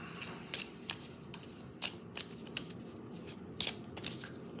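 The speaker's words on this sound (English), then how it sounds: "shuffle them up" A deck of wargame cards is riffled and shuffled in a series of quick, crisp bursts, close by, with short pauses between them.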